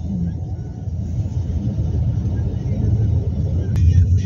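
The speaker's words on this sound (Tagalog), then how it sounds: "Kaso matraffic lang." Road traffic in Bonifacio Global City: a steady, close low rumble of cars and motorbikes moving slowly in heavy congestion, continuous throughout, with a faint passing tone near the end.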